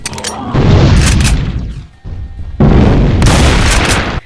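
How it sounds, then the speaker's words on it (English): A Mancubus variant in a Doom mod fires dual homing heavy shots, two loud booming blasts with rumbling low-end tails, separated by a brief lull. "The second and uncommon attack is firing dual homing heavy shots."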